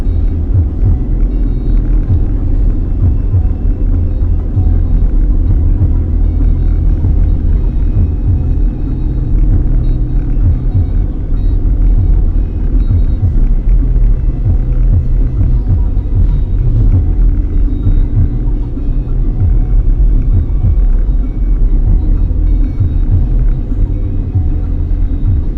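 Steady low engine rumble and road noise from inside a car driving in light drizzle with the wipers going, continuous and close throughout.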